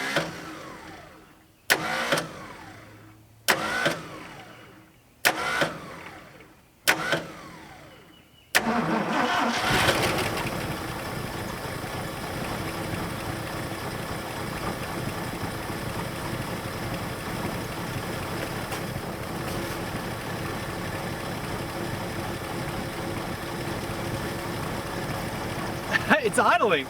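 A Ford Mustang Cobra engine, leaking fuel, cranks in several short bursts, catches, and then settles into a steady rumbling idle that runs on evenly.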